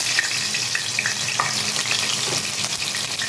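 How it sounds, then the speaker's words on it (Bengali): Cut potatoes hit hot oil in a wok and fry with a steady, close sizzle, dotted with small pops and crackles throughout. "এবার কড়াইতে তেল গরম করে নিয়েছি, এর মধ্যে দিয়ে দিচ্ছি কেটে রাখা আলু"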